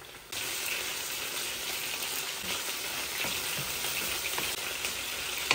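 Chicken frying in a pan with spices, chillies and fenugreek leaves, giving a steady loud sizzle with occasional stirring clicks, close and continuous without speech.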